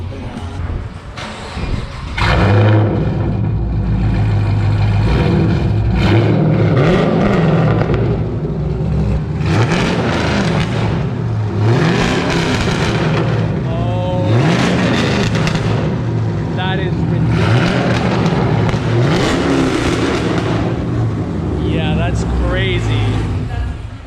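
A 5th-generation Chevrolet Camaro SS with a quad-tip exhaust revving loudly in repeated bursts, rising and falling, with people talking excitedly over the engine.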